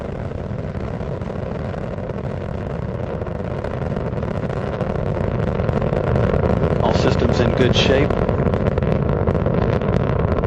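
Space Shuttle Atlantis's engines roar in a steady, broadband rumble during launch ascent, loud and continuous throughout, swelling slightly in the second half, with a mission-control voice talking over it.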